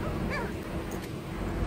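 A police dog at a roadside traffic stop gives a brief yip and whimper near the start, followed by rustling and background road noise, with faint human voices.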